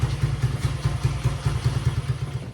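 A 1974 Honda CB125 motorcycle, a barn find, idles with a steady low, lumpy putter and a rhythmic pulsing beat, heard close and alone without talk.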